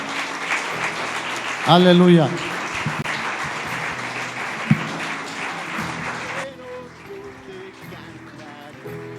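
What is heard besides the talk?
congregation applause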